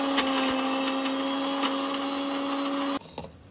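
A kitchen mixer grinder runs with a steady, loud whirring hum as it blends cooled spices and a little water into a fine paste, then abruptly cuts off, leaving faint clatter.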